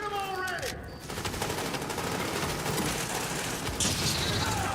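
Sustained bursts of gunfire from the video game The Division, with dense overlapping shots and booms filling the whole stretch at a steady loud level; a voice speaks briefly near the start.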